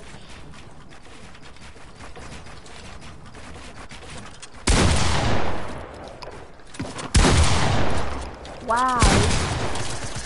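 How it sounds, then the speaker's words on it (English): Automatic gunfire in a first-person shooter game, sudden loud bursts of rapid shots in three bouts after a quieter stretch, with a man's brief exclamation. "my guns are shooting automatically and I don't know why"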